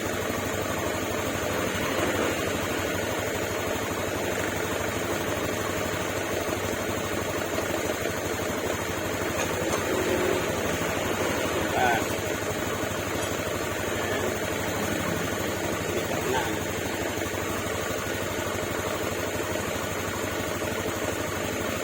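A Honda motorcycle engine idles steadily during an ECU remap, a continuous close, even mechanical rumble with light vibration that holds level for over twenty seconds with no talk.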